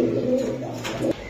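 Pigeons coo in a low, throaty rolling murmur at a busy pigeon market, a near steady warble with a brief brighter burst of noise before it cuts off abruptly.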